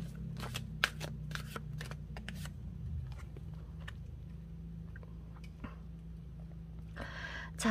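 Tarot cards being shuffled close up, quiet riffles and flicks in quick bursts over a low steady hum, with a louder flurry near the end.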